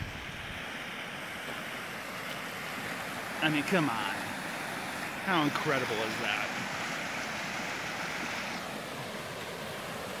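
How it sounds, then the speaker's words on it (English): Clear glacier-runoff stream running behind a campsite in Idaho's Sawtooth Mountains, a steady rushing wash that persists throughout, with a person speaking briefly over it partway through. "This is all glacier water runoff, so you can see it is crystal freaking clear"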